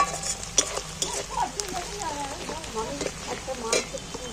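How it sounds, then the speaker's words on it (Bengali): Onion frying in oil gives a soft, close sizzle, broken by light stirring scrapes and occasional utensil clinks against the pan. "পেঁয়াজটা দেখো তেলের মধ্যে অনেকটাই ভাজা হয়ে এসেছে"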